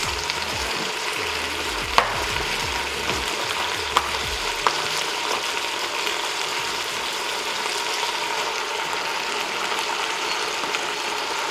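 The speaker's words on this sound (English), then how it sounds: "So we're going to go ahead and add our mince." Mince frying with vegetables inside a CrockPot Express XL pressure cooker for chilli con carne: a continuous bright sizzle with a few sharp stirring clicks near the start, then an even hiss.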